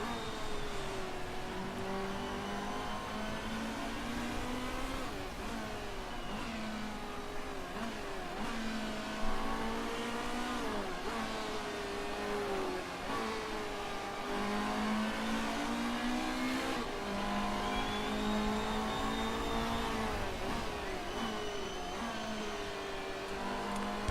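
A race car engine in the Motorsport Manager game revs at full power, a loud sustained whine rising and falling through gear changes across the whole stretch, with no talk over it.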